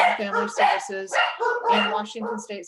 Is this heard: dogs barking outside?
yes